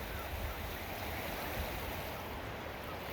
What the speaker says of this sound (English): there's a lot of water flow out of that big blowhole there beneath the waterfall